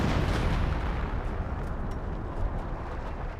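Artillery barrages thunder in the WWII strategy game Company of Heroes. Heavy rumbling booms overlap into a continuous low roar with scattered sharper bursts, loud and without speech.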